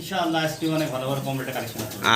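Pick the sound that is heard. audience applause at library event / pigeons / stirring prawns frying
pigeons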